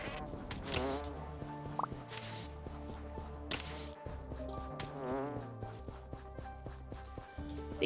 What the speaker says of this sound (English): Immediately attacked by bees.